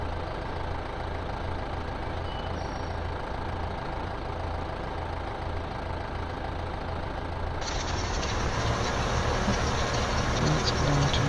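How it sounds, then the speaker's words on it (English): A tractor drives in Farming Simulator, a video game: a continuous, loud engine drone that holds steady and then shifts to a brighter, harder tone partway through, with no speech. "So the tractor will drive up to this point, this initial point."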